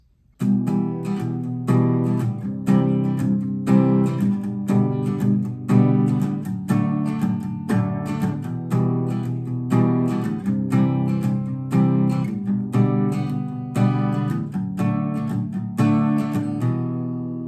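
Steady strummed acoustic guitar chords ring out continuously, a dense rhythmic pattern of repeated strokes with full, sustained harmony and no voices.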